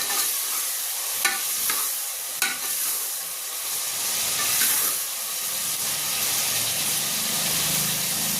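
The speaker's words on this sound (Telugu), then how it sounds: "ఆనియన్స్ కొంచెం ఫ్రై అయ్యే వరకు వెయిట్ చేద్దాం" Onions fry with rock salt in a pan for Telangana-style mutton curry, giving a steady sizzling hiss with a few sharp spoon taps and stirring scrapes over it.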